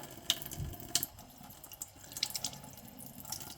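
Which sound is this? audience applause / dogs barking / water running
water running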